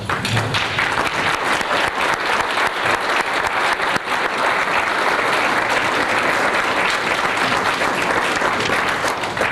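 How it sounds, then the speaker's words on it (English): A room full of people at a school-to-work program gathering breaks into loud, continuous applause, a thick wash of clapping that stays strong from start to finish. "let's have a round of applause for each other"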